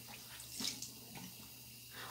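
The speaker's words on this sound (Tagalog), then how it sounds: "Paliguan mo, galing sa gripo." Water runs from a tap for bathing a baby, a faint steady indoor flow with soft splashing bursts and no clear talk.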